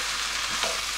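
Sauerkraut being stirred in a frying pan with onion and spices, a steady close sizzle with a brief scraping stir near the end, no talking.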